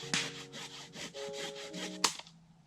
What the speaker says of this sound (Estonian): Plastmassist saag.